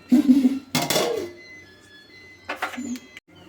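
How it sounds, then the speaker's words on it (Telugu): A metal lid is set onto a cooking pot of drumstick curry, making two clanking contacts with a ringing, resonant tone that fades between them, close and clear. "ఇప్పుడు మూత వేసుకుని కాసేపు ఉడకనిద్దామండి"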